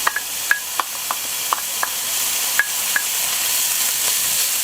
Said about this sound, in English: We're going to fry up that bacon a little bit, let some of that bacon fat render out